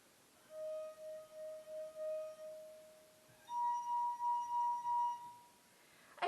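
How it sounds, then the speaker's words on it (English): Drinking glasses holding different amounts of water are struck one after another, each giving a clear sustained ringing tone; a lower-pitched series of strikes is followed by a higher-pitched series, ending with a brief clink. "the water levels determine how fast the glass vibrates, which also determines the pitch of the sound"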